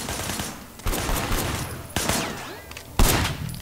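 Gunfire in the video game Sleeping Dogs: three loud bursts of shots about a second apart, each a sharp crack with a ringing tail, over steady in-game background noise.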